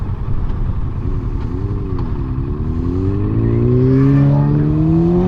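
Sport bikes ride past a motorcyclist on the road, their engines rising in pitch as they accelerate and rev, loud and close over steady wind and engine noise.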